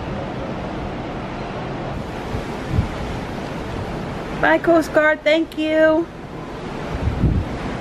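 Ocean wind and waves rush steadily aboard the Disney Dream cruise ship as it sails out to sea. The broad wash of sea noise continues throughout, and a voice speaks briefly partway through.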